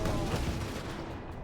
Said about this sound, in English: attract explosives towards these objects and they'll explode very quickly